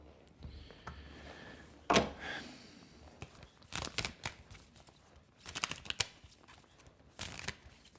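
Tarot cards are shuffled close by in repeated bursts of riffling and flapping, separated by brief pauses, with sharp slaps as the cards are squared up and no talking.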